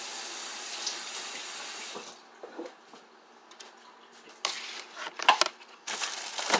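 Kitchen tap water rinsing hands and a plastic Dollar Tree cutting board, a soft steady hiss of running water that drops away, then splashy irregular bursts as the board is rinsed under the stream.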